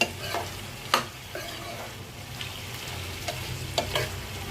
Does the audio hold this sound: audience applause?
no